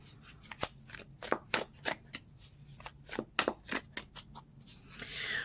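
Tarot cards shuffled by hand during a reading: a quick series of crisp, papery flicks and riffles, close and fairly quiet, ending in a softer sliding rustle.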